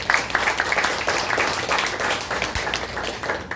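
Audience at a lecture hall clapping together, a dense, steady patter of many hands lasting a few seconds with no speech over it.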